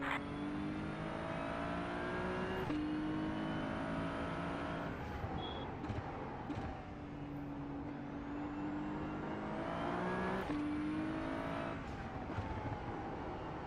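Simulated Ferrari 296 Challenge race car lapping the Nordschleife in a racing game, a loud engine that repeatedly climbs to a high-pitched whine, drops with each gear shift, and revs back up, steady and continuous.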